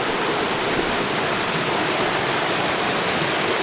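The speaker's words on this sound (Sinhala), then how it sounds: "මේක මේ එන හයියෙන් වතුර පාර යනවනේ" A hidden waterfall in New Zealand rushes over rocks in a loud, constant, broadband roar that stays steady and unbroken throughout.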